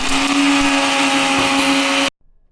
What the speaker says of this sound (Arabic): وبنبدأ نشغل الخلاط